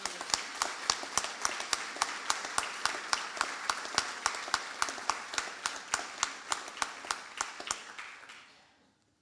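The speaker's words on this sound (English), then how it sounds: "So can we have another round of applause for them?" Rhythmic hand clapping at a Bury College graduation ceremony, a steady run of sharp claps that keeps an even beat for several seconds before fading to silence.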